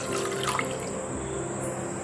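Water poured into a kadai to boil instant noodles, a steady close splashing and running-water wash that holds level for a couple of seconds with no voices.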